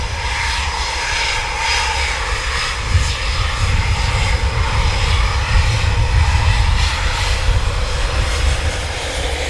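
An RAF aircraft taxis out at RAF Coningsby, its engine giving a steady, loud, broad roar that swells slightly toward the middle, heard at a moderate distance with no voices.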